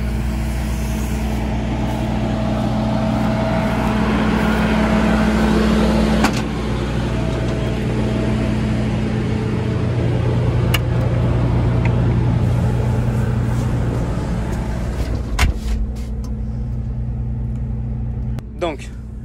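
Claas Lexion 630 combine harvester running, heard from inside its cabin: a steady, loud low engine drone and rumble persisting throughout, with a few sharp clicks and knocks near the end.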